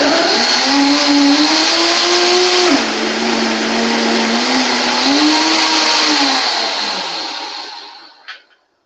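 A blender whirs loudly while mixing a vegan sweet potato pie smoothie with plant-based protein milk, its motor pitch shifting as the load changes, then winding down and stopping with a small clunk.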